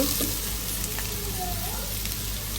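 Rice frying in a pan before water is added for pulao, a continuous close sizzle with faint scraping throughout and a brief tone rising in the middle.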